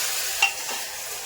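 Mutton added to red chillies frying in a pan: a steady hiss of sizzling oil with a brief scrape of stirring, close and continuous.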